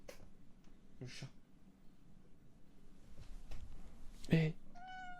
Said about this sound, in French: elle est frustrante cette chatte